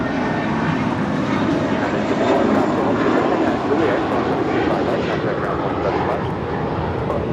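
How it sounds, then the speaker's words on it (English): An American Airlines Airbus A321 departs LAX, its engines giving a broad, steady roar that holds loud and even throughout, with a voice talking over it. "This departure is American 1632 departing to Boston on an A321."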